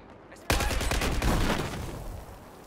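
Sustained burst of automatic gunfire in Battlefield 4, aimed at a sniper, erupting abruptly after a quiet lead-in and rattling on loud and dense to the end.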